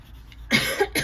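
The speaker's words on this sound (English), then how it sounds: "Excuse me again for my cough." A single harsh cough, close up, followed by a brief second cough burst.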